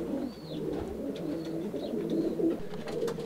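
Ornamental fancy pigeons cooing steadily in a pigeon loft, several low murmuring coos overlapping continuously with faint higher chirps above, close and moderately loud with no talk.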